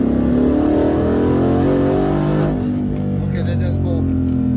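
A turbocharged Ford Mustang GT pulls in fourth gear, its engine drone loud and steady from inside the cabin, easing slightly partway through.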